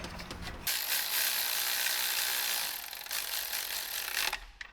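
A ratchet turns a bolt on a BMW Vanos unit of an M50 engine in an E30, giving a quick run of close, dense clicks for several seconds. Nobody speaks.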